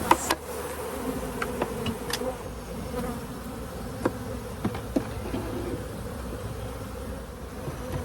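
Steady close buzzing of a swarm of bees at a hive fills the whole clip, with a few sharper clicks and bumps over the continuous hum.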